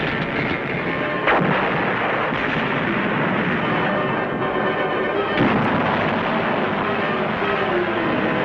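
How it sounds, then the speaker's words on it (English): Enemy artillery fire shelling beach positions during a wartime landing, heavy booms rumbling over a continuous loud barrage with sharp blasts standing out near the start and middle. "Enemy artillery is zeroed in on our positions."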